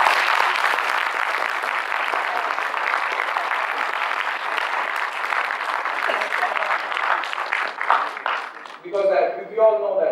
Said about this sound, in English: Give a big round of applause to be here.